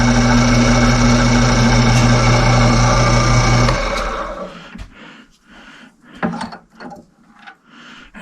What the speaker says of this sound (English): I'll drill a little bit just so you can see.